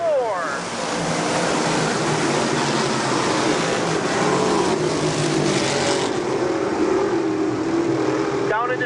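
Dirt track race cars roaring off together at the start of the first feature at Utica Rome Speedway, a dense, continuous engine wall that stays loud throughout, with a voice talking over it.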